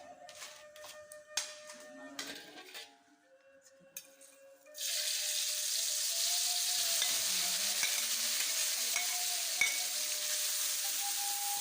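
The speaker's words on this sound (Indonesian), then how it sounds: "Dipanasin dulu kita masak masak cabenya." Chili peppers for a Padang-style salted fish dish hit hot oil in a pan, a sudden loud sizzle after a few quieter clinks and scrapes, then frying steadily with faint stirring.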